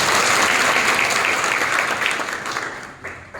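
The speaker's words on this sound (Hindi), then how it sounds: "इसके लिए जोरदार ताली।" Loud applause from political party workers at a local assembly meeting, dense crowd clapping that stays strong then begins to thin toward the end.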